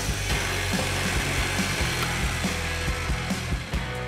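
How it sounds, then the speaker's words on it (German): A power drill pre-drills and countersinks wooden wall shelf parts, a steady close whine broken by regular clicking and knocking as the bit bites into the wood, with no talking. "Für die Verbindung nutzen wir diesmal Schrauben. Deshalb vorbohren und absenken für einen guten Halt und eine überzeugende Optik."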